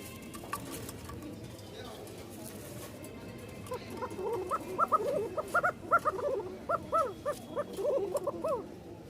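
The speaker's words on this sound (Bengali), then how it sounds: "দেখেন ককার ডাক ভয় পাইতেছে এরপরে আবার ডাকে" Rajshahi Giribaz pigeons coo in a loft, a series of rising warbling calls that begin faintly and grow louder and more frequent toward the end, close by, with a murmur of low background noise.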